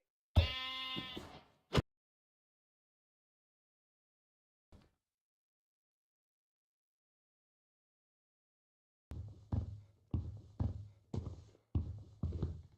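Sheep in Minecraft bleat once clearly near the start, then after a long silence a quick run of soft, short bleats and thuds repeats in close succession.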